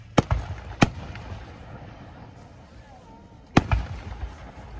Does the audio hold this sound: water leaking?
no